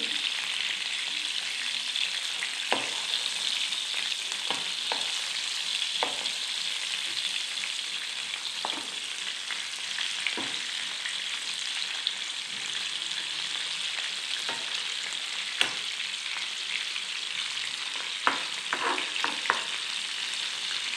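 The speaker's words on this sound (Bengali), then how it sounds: "আমি মাছটাকে একটু সাঁতলে নিলাম।" Prawns lightly fry in a pan, a constant bright sizzle running throughout with scattered sharp clicks and scrapes from stirring, moderately loud and close.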